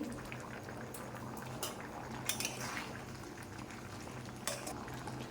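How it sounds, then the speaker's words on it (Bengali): A pot of ghugni with potatoes simmers quietly at a low bubbling boil, with occasional faint clinks of a utensil against the pot. "ফুটতে শুরু করে দিয়েছে।"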